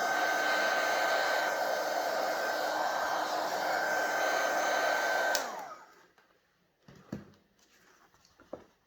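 A heat gun blows steadily and loudly while drying a handmade card coloured with Brusho, then cuts off after about five seconds, leaving a few faint handling taps and knocks.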